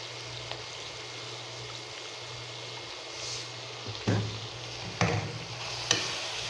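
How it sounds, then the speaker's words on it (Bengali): Egg curry frying in a pan gives a steady soft sizzle under a low hum, with three distinct scraping strokes of stirring near the end, close and moderately quiet with no talk. "নাড়তে হবে অনেকক্ষণ।"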